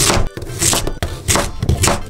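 A knife chops firmly through a crisp daikon radish, several quick strikes against a cutting board, close and loud.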